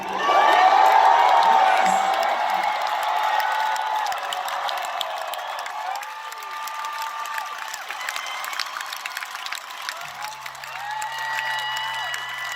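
A big concert crowd roars and cheers for the frontman at a band reunion at Cal Jam 2018, a dense sustained wash of shouts, whoops and applause that swells loudest at the start and then holds steady.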